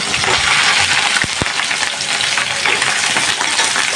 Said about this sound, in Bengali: বেশি করে তেল দিচ্ছি আর দিয়ে দেবো করলাগুলো